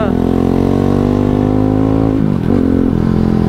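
A motorcycle with a broken silencer roars loudly up close with a deep, buzzing, raw exhaust note that dips briefly in pitch and then picks back up.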